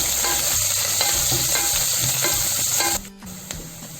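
Onions and curry leaves sauté in a pan for a kurma, a steady close sizzle with scraping stir strokes, cutting to quieter sizzling near the end.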